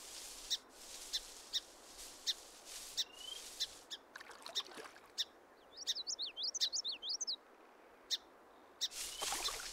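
A song sparrow near a marsh, with repeated short bright chirps and a quick run of trilled notes over a quiet outdoor background, close and fairly faint, with no voices.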